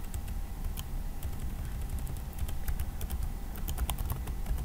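Keys clatter on a computer keyboard as a password is typed, a run of light, irregular clicks over a quiet room hum.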